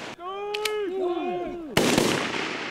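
Military shooting drills at the Vilbusoo firing range: a raised voice calls out, then one loud, sharp gunshot cracks nearby and rings off.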